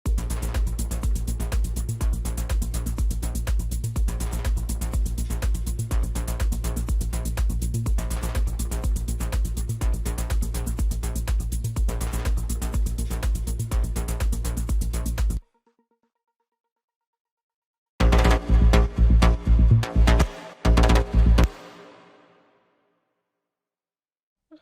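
Repeating synth bass notes pulse in a steady, dense rhythm, stop briefly, then return as a short burst that fades out into an echoing reverb tail.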